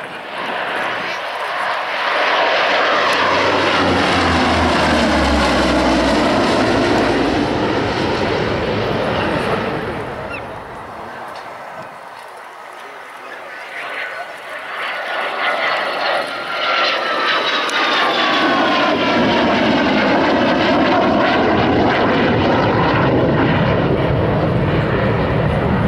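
A Saab Viggen jet flies an air show display, a loud roaring pass that swells, dips briefly and surges back with a sweeping engine howl, while a commentator speaks throughout.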